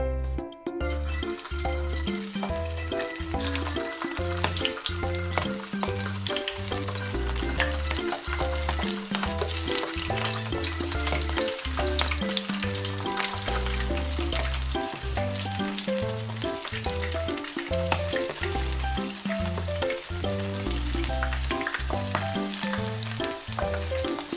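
Oysters coated in flour, egg and breadcrumbs fry in hot oil with a steady, dense sizzle and crackle throughout, under rhythmic background music.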